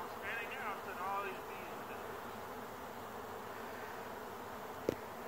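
A swarm of honeybees buzzes steadily around a beekeeper's smoker, a dense, even drone of many wings with a brief knock near the end.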